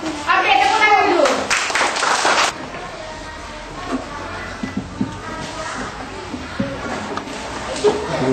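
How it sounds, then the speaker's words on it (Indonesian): A class of children clapping their hands during a teaching session, a loud burst of clapping at the start that stops abruptly, followed by quieter classroom chatter and children's voices. "Oke, tepuk tangan dulu."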